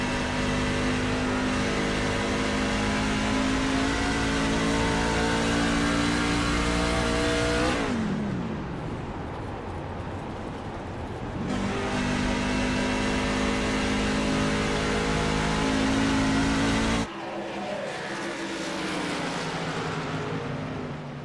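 Onboard engine of a race truck in a racing video game at Dover: a loud, steady engine drone that twice drops to a quieter coasting whine with the clutch in, then picks back up. No one talks.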